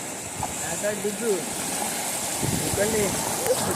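Steady rushing of water at a waterfall fills the scene, a constant wash of noise with faint chirpy sounds and brief voices over it.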